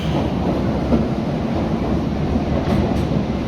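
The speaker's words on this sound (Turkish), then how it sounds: "Şu gelirken de çekeyim metroyu." A metro train arrives at a station, a loud, close, continuous rumble and rattle of wheels on rails with a roar that holds steady throughout.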